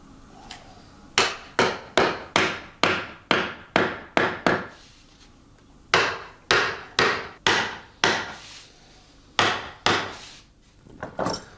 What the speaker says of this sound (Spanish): Después de encajar las piezas con el martillo, el artesano las ajusta en la prensa para que queden totalmente fijadas.